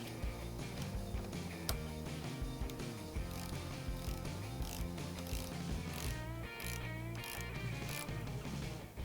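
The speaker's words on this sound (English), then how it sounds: "reinstall the negative battery cable onto the negative battery terminal and retighten the fastener" A hand ratchet clicks while retightening the fastener on the negative battery terminal of a 2013 Toyota Camry, quick repeated ratcheting bursts up close over a faint steady background.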